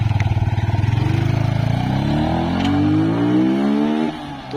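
A Yamaha R15 V3 motorcycle with an aftermarket exhaust silencer pulls away: a close, pulsing idle burble rises into a climbing rev as the bike accelerates off, then fades out at the end.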